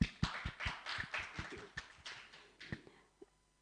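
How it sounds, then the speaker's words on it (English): Audience clapping for three workshop speakers at an academic event, a brief scattered round of applause with distinct claps that thins out and fades toward the end. "let us first thank the 3 speakers, Professor Seiya, Professor Atsuhiro, and Professor Kenta by giving an applause."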